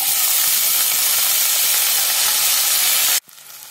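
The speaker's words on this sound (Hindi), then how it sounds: "चलाते हुए धीमी आंच पे 7 मिनट तक फ्राई करेंगे।" Cut potato frying in oil in a kadhai, a loud, dense, steady sizzling hiss close by that cuts off sharply near the end, leaving faint quieter crackle.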